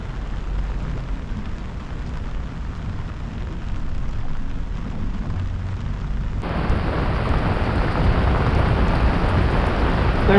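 Steady broadband rain hiss at a dam during a fishing outing, continuous and close, growing noticeably heavier and louder partway through, with no voices.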